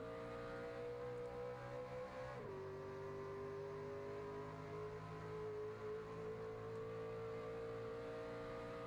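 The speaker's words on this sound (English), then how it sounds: "Now we're hearing that shifting." A race truck engine roars steadily during an ORRL oval race, its pitch dropping sharply partway through as a gear shift lands, then holding a lower, sustained drone.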